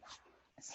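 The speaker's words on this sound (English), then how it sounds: "that's my dog." A dog whimpering softly, two brief high whiny cries separated by a short pause, faint and close with a little background noise.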